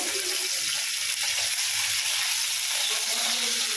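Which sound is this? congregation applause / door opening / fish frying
fish frying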